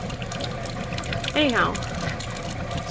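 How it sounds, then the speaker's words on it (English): Water streams steadily from a NuCamp camper faucet while the onboard water pump runs, a continuous rushing hiss underneath a brief spoken word. "So water pump on, faucet on, and I do have a little better stream of water."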